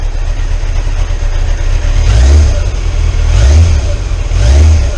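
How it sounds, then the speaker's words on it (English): A 1988 Kawasaki ZX10B motorcycle with a converted exhaust idles loudly up close and revs several times in swelling bursts, the exhaust note rising and falling. "The exhaust sounds good."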